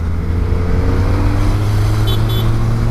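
Car engine noise at night on a Hyderabad street, a loud, close, steady low rumble with a faint high chirp partway through.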